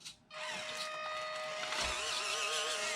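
A small electric motor whines steadily as a 1/18-scale Chevrolet K10 RC crawler truck drives, a thin high hum that holds for a few seconds with slight shifts in pitch.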